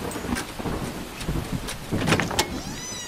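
Thunderstorm with steady rain in a radio drama, thunder rumbling and cracking over continuous rainfall throughout, fairly loud and close, with no talking.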